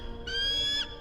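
Short tonal bird call in the Phasmophobia video game, a single clear whistle-like note lasting about half a second, moderately faint against a low background hum.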